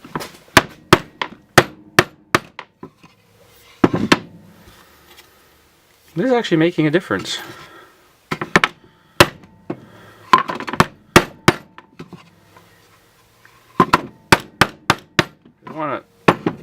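Sharp hammer whacks on a chunk of scrap MDF, struck in quick irregular bursts of loud close knocks with pauses between, someone talking briefly in the gaps and a rattling ringing tone in places.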